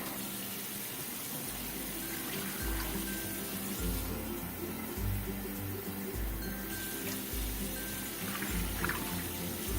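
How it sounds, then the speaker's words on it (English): Two cups of water pour into a roasting pan of chicken and vegetables, a steady trickling splash that runs throughout at moderate level. "now we're going to add 2 cups of water."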